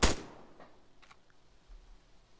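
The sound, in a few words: gunfire in the video game ARMA 3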